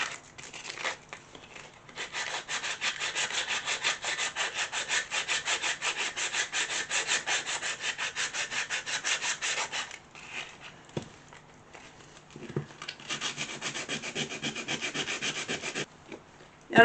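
Steady rasping strokes of sandpaper rubbing on wood during furniture restoration, removing paint drops and stuck residue, rhythmic and close, with a short pause and a few knocks before the sanding resumes.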